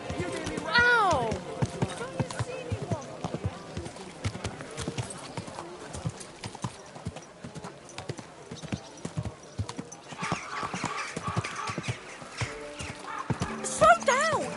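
A galloping horse drums out a steady, rapid run of hoofbeats that carries on throughout, with neighing near the start and end and voices speaking over it.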